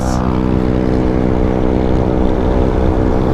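A Honda PCX 155 scooter drones past at speed, a loud close engine whine with steady buzzing harmonics, alone and continuous over the full stretch.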